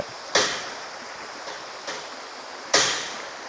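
Water rushes steadily over a small waterfall in the Khlong Maduea stream, with a few louder splashing bursts rising out of the continuous hiss at irregular intervals.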